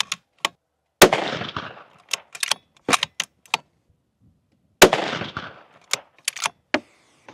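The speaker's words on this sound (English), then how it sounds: "We'll put a couple rounds on target." Rifle rounds fired at steel targets 150 yards out: two loud, sharp gunshots, each with a long rolling echo, spaced several seconds apart, with sharp metallic clinks and clicks between them.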